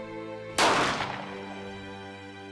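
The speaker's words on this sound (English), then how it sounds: "While the Minutemen were dispersing, somebody fired a shot." One sharp musket-style gunshot sound effect for the shot fired at Lexington cracks loudly and near, then fades in a short echoing tail over a faint steady background tone.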